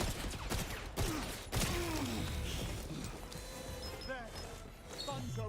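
Turrets firing in the video game 007 First Light: scattered sharp gunshots and metallic clanks with whooshing effects, fairly dense and mid-distance, with voices speaking over the action.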